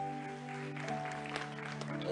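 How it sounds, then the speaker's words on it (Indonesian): A congregation applauds during a church service, a steady wash of clapping over sustained keyboard and music tones, with no voices heard. "Kasih tepuk tangan dulu Pak."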